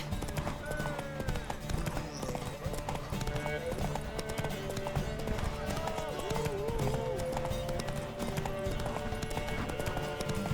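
Horse hooves clip-clop in a quick, steady rhythm amid busy background sounds in the video game The Witcher 3, with voices talking over them.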